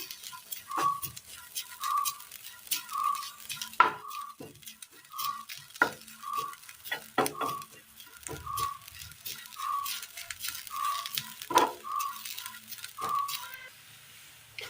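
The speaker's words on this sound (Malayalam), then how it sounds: "അടുത്തത് നമ്മൾ പാനിലേക്ക് തേങ്ങ ഇട്ട് കൊടുക്കാം" A utensil scrapes and stirs grated coconut in a pan in a steady rhythm, with faint sizzling underneath and short bright tones repeating every second or so.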